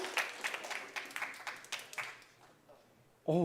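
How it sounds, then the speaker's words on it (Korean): A short round of clapping from a few people at a church service, about a dozen quick claps that fade out, followed by a brief voice at the very end. "와, 박수."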